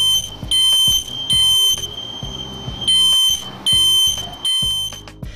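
A smoke detector shrieks in loud, piercing bursts during a test, repeating roughly every second with short gaps between blasts, close and alone.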